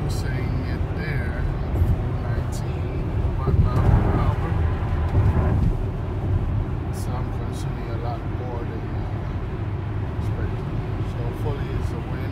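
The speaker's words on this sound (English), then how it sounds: "And you can hear a lot of wind noise." Inside a Tesla Model X cruising at 70 mph, a steady broadband wind rush and road hum fill the cabin, with a brief swell in the middle, while a person talks over it.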